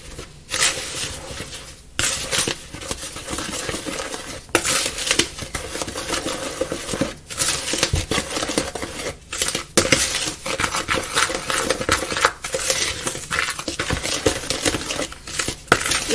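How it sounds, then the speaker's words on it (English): Cornbread batter is mixed in a bowl, a continuous scraping, clinking rhythm of a spoon against the sides, loud and close with brief pauses, with no talking. "I'm going to start mixing this around"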